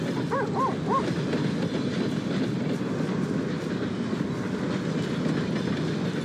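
A train rumbles past in the Western open-world game Red Dead Redemption 2, a steady loud clatter of wagons that fills the whole stretch, with a few brief whistle-like tones near the start and no talk.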